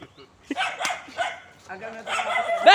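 Dogs running loose in a park bark and yip in short bursts, mixed with nearby voices talking over them.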